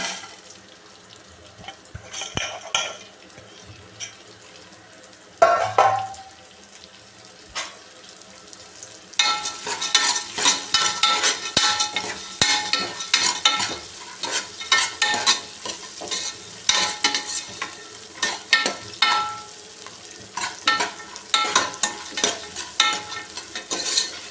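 Sprouted gram frying in a pan for sambar, with a quiet opening and a sharp clatter, then steady sizzling and repeated scraping strokes of a spoon stirring the pan close up.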